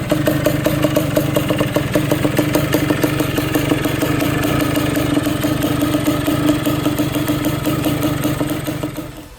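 A Yamaha Blaster ATV engine idles loudly and close, a rapid steady single-cylinder putter with mechanical clatter that runs continuously before cutting off near the end.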